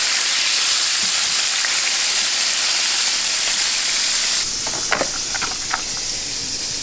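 Speckled trout sizzles steadily in a hot pan, a dense continuous fry hiss that holds even throughout, then turns slightly softer near the end with a few louder pops and crackles as the fish is flipped.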